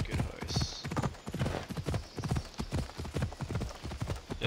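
Steady clip-clop of horse hooves in Assassin's Creed Odyssey at a regular trotting rhythm, close and fairly loud, with faint background ambience.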